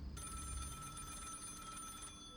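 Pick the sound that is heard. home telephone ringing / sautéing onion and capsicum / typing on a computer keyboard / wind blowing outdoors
home telephone ringing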